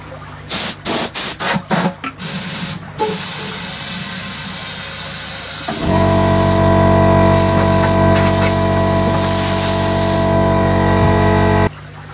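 An air compressor line blasts acrylic dust in a workshop as a loud, sustained hiss. A few short bursts come first, then one long continuous blast that cuts off near the end.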